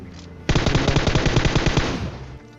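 A loud, close burst of rapid automatic gunfire from a weapon in PUBG Mobile lasts about a second and a half, each shot evenly spaced, then trails off into a short echo.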